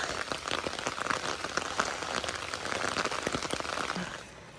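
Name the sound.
rain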